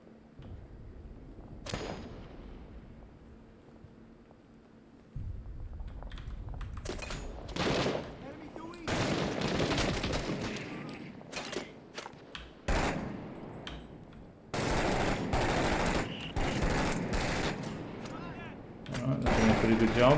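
Bursts of automatic rifle fire in the combat game Six Days in Fallujah, loud rattling volleys broken by pauses, with someone talking between and over the shooting.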